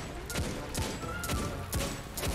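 Rapid sniper rifle fire in the video game Destiny, five sharp cracks at roughly half-second intervals with a brief ring after each, loud over a busy game backdrop.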